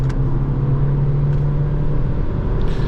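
A Ford Focus engine drones loudly and steadily at high revs, with a constant low hum and road rumble heard from inside the car.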